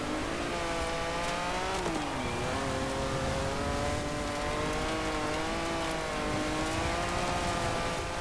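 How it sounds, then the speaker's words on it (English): Ferrari Dino V6 engine in Forza Horizon 4 runs loud and steady throughout, its pitch dipping briefly then climbing and holding as it revs under load, with faint tire noise and no talking. "And like Fiat, this shows that Ferrari were a little bit incompetent when it came to them using this same V6 engine. This is the engine from the Dino."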